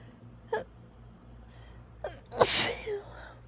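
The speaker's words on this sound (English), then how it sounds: "I keep having sneezing fits." A woman lets out strong allergy sneezes: two short breathy build-ups, then one sharp, loud sneeze with a brief gasp after, close and alone.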